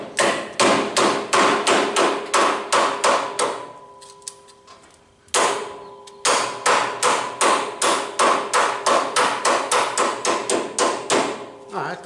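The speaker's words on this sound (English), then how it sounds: "I'm just going to take my rubber mallet" A rubber mallet strikes metal on a 1962 Comet restoration in a fast, steady string of loud, close blows. A short pause breaks the run before the blows resume, with no talk.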